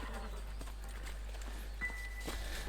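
Horses in the Red Dead Redemption video game clop along in a quiet, irregular rhythm over a low hum, with a faint tonal game sound partway through.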